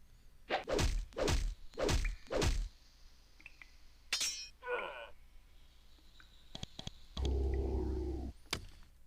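Fire spell effects in the 1998 role-playing game Nethergate: a run of four loud rhythmic whooshing blasts, then scattered crackles and thuds, and a sustained roaring burst near the end.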